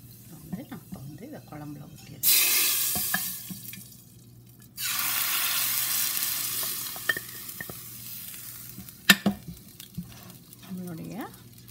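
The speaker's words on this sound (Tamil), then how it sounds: "கொஞ்சம் காயம், கொஞ்சம் கருவேப்பிலை தாளித்து குழம்புல சேர்த்துக்கலாம்." Asafoetida and curry leaves tempering in hot oil for spinach kulambu give two bursts of loud crackling sizzle. Quieter clinks and stirring sounds fall in the gaps between them.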